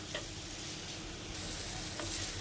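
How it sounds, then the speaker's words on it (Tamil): Chicken tossed with masala sizzles in a pan, a soft, even hiss that continues quietly with a couple of faint spoon taps. "இப்போ சிக்கன் ஒரு 2 நிமிஷம் நல்லா வதங்கட்டும்"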